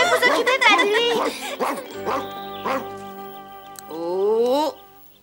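A cartoon dog barking and yipping in a series of short bright yelps, followed by a longer whining bark, close and loud among other animated character sounds.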